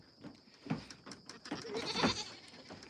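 Goats bleat repeatedly on a farm in northern Canada, several overlapping wavering calls close by, rising in intensity toward the end against quiet background.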